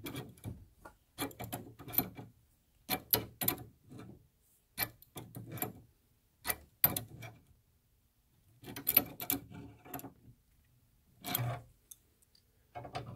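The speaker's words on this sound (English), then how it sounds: "This torque wrench is set at 11 foot-pounds, and we'll hear a click when it's done." Torque wrench tightening a copper tubing flare fitting set to 11 foot-pounds, heard as a series of quiet ratcheting clicks and small clacks in irregular bursts separated by silent pauses, close and faint.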